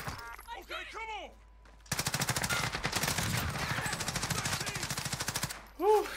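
Rapid assault rifle fire from an M4 in Call of Duty Warzone, one long fast burst of loud close shots, with game voice effects chirping before and after.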